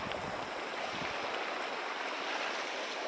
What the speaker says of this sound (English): the sound of a bubbling creek